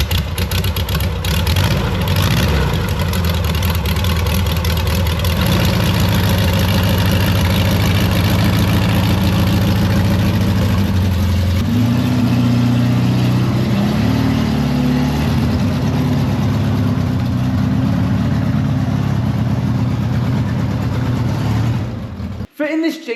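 A classic VW Beetle 1600 air-cooled engine cranks, catches and settles into a steady, loud idle, its low throbbing running close and continuous before cutting off abruptly at the end.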